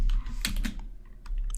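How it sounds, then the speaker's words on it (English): Typing on a computer keyboard: a quick burst of close key clicks, a short pause, then a few more taps, with no voice. "So let's quickly check by typing in a quick select statement."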